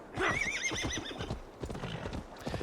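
Horse in Assassin's Creed Valhalla gives a loud whinny near the start, followed by steady rhythmic clip-clop of hooves continuing throughout.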